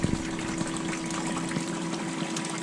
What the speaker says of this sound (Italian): Guardate che bello spruzzino.